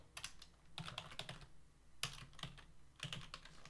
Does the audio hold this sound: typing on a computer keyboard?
yes